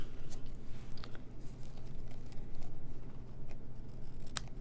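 Scissors trim the ends of a tied ribbon knot in a craft setting, giving a few quick, crisp snips spaced apart over a steady low background hum.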